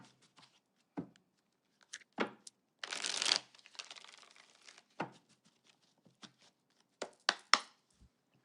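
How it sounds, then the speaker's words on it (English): Tarot cards being shuffled and pulled from a deck, with a short riffling burst among sparse, crisp card snaps and slaps spaced irregularly in a quiet room. "I'm going to pull out all these cards and then we're going to talk about them"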